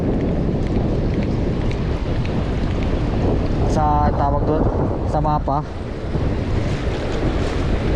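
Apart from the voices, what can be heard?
strong sea waves and wind at a New Zealand river mouth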